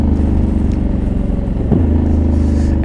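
A 2021 Honda Africa Twin motorcycle with a DCT gearbox running on a race track, its engine droning loud and steady up close with a brief shift-like blip midway.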